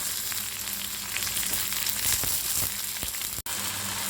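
Tomatoes dropped into softened onions frying in a pan for Tamil pudina (mint) chutney bring a steady, close sizzle with a few soft stirring scrapes and one sharp clack near the end.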